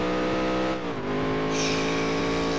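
A race car engine in the Dirt to Daytona video game drops pitch on a downshift, then its drone climbs back up and holds at high revs, loud and continuous.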